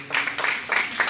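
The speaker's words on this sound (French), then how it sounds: "Ah, ces acclamations, c'est bien pour moi" A church congregation bursts into brief rounds of applause and cheering, several quick swells of clapping packed into about a second, with a voice faintly underneath.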